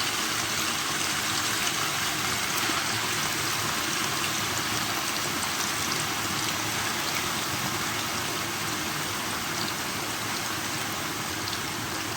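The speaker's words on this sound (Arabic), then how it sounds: "دلوقتي بقى هنحط بقى البطاطس دي تتحمر برضو." Potatoes frying in oil in a home kitchen while a stuffed potato and minced meat tray bake is prepared, a steady, soft sizzling hiss that runs unbroken throughout with no talk.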